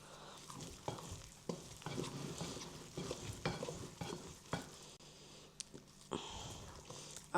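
Sticky no-knead bread dough mixed by hand in a bowl: wet, squelching slaps and scraping strokes in an uneven rhythm, close and fairly quiet, with no talking.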